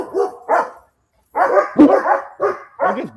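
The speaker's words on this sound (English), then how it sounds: "They're just barking at each other." Dogs bark back and forth in short bursts, several sharp barks with a pause between volleys, close and loud, with some higher yipping mixed in.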